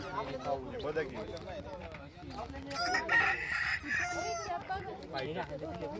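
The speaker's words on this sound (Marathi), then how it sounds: "कोंबडा आणि कोंबडी." A rooster crows loudly while hens cluck around it, and people talk over the farmyard noise at an agricultural science centre in Narayangaon.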